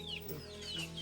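Chickens at a family home cluck softly in a short, steady burst with bird calls over a low background hum, no talk heard.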